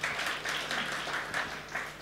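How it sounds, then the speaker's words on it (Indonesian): A church congregation at a Sunday service in Pluit applauds together, a quiet, steady patter of many hands clapping for about two seconds, faint and distant. "Tepuk tangan lu buat Yesus."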